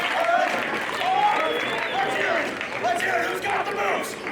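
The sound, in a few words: wrestling crowd clapping along to a dance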